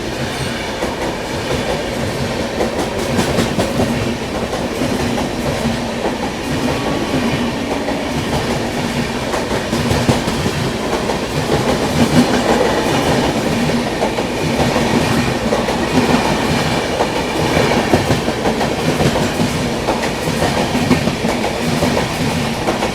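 Swarna Jayanti Superfast Express, the Hazrat Nizamuddin–Thiruvananthapuram service, passing on the outer approach of Agra Cantt, a loud, steady rumble of coaches with continuous clickety-clack wheel beats and faint squeal throughout.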